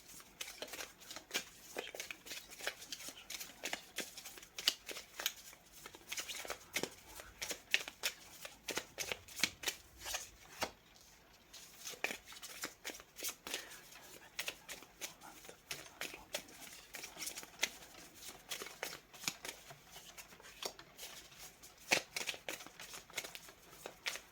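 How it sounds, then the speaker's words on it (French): A deck of oracle cards is shuffled by hand nearby, a continuous run of quick papery riffles and slaps with uneven rhythm, with no talk over it. "Je prends le temps de laisser venir les cartes."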